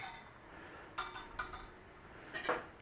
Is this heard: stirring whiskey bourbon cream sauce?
yes